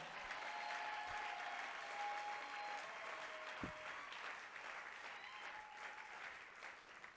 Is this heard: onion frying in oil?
no